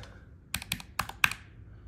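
A ProtoArc MECH K300 wired/2.4G/Bluetooth mechanical keyboard with a number pad is typed on, giving a handful of crisp, close key clacks in quick bursts followed by a quiet tail.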